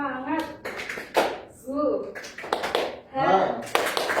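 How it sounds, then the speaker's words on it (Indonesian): A teacher leads a classroom spirit-clap routine, with short bursts of rhythmic hand claps between her spoken lines. "Kita akan tepuk semangat."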